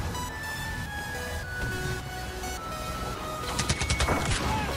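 Explosions and rapid gunfire from bombing in the video game Star Wars Battlefront, with a dense run of loud cracking bursts near the end over steady battle noise and tonal game sounds.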